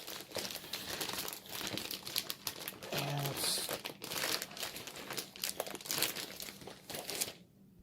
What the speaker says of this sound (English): Let's open it up here out of its bag.